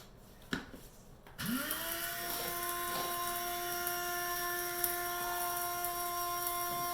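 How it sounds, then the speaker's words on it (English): An electric grinder runs steadily, grinding homemade seasoning spices, with a high motor whine that starts after a couple of faint knocks and holds constant and close through the rest. "I don't want to grind it up too much. I don't want to grind it too much."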